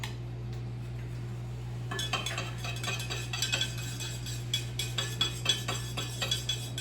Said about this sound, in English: And I stir my coffee to make sure it's good and stirred.